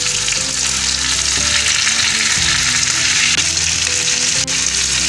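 Garlic chicken wings with lemon juice sizzle loudly and continuously in a pan, close up, with the scrape of stirring running through the constant crackle and no voices.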